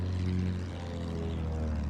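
An enemy propeller plane flies over a Battlefield 1 battlefield, giving a loud, steady, droning engine hum that holds evenly from start to finish with no pauses.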